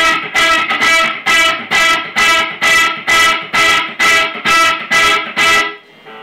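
Distorted electric guitar with no delay plays a steady pattern of about eleven loud, evenly spaced chords or notes that each cut off sharply before the next, ending with a brief ringing tail.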